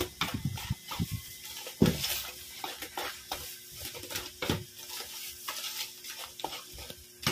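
A wire whisk stirs banana cake batter in a mixing bowl by hand, producing a steady run of wet scraping strokes and light clinks against the bowl, close and uneven in rhythm.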